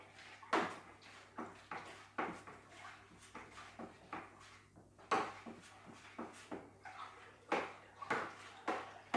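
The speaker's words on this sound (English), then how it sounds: "There we are, 23 litres. Right, give it a good old stir now." Twenty-three litres of homebrew Mexican lager stirred in a bucket, heard as repeated sloshing swishes and knocks in an uneven rhythm, close but fairly quiet.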